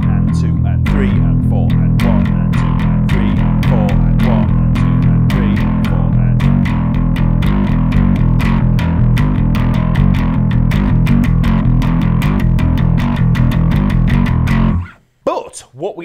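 Distorted electric bass plays a riff in steady eighth notes, loud, dense and driving, before stopping abruptly near the end as a voice begins.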